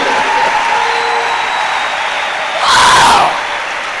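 A church congregation applauds and cheers for Jesus during a miracle and healing service. A steady wash of clapping swells into a brief, louder burst of cheering near the end.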